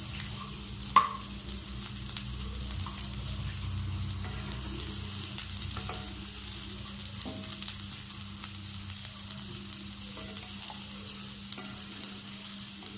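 Mango chutney ingredients frying and being stirred in a modest amount of oil in a pan, with a steady soft sizzle and occasional scraping stirs, close and continuous with no talk.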